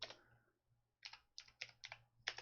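Typing on a computer keyboard, a quick burst of keystrokes at the start, a pause, then several distinct clustered clacks in an uneven rhythm, close and clear with a quiet background.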